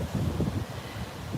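Outdoor wind buffets the microphone, a steady low rumbling roar with gusty swells across a brief stretch, loud and close, with no voices.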